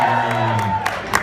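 A studio audience at a television premiere talkback event cheers and whoops briefly, a loud, close burst of voices with a few sharp shouts on top.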